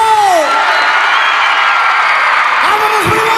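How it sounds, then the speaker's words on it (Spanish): A concert crowd at a show on Día del Taco 2008 lets out a loud Mexican grito, with yells and cheers over a steady roar that swells again near the end. "A ver ese grito mexicano."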